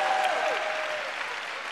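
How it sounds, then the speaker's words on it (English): An audience applauds at a speech, a soft, dense patter of many hands clapping at a moderate distance that gradually thins, with a brief tonal whistle-like sound near the start. "You should clap for me right there."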